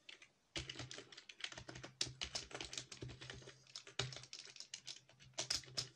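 Rapid typing on a computer keyboard: a dense, close run of light plastic key clicks with irregular rhythm and occasional louder strokes, with no voices.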